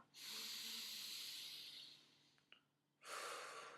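Slow, calm, balanced breathing heard up close: one long, even airy exhale that fades away, a short pause, then a fresh breath starting.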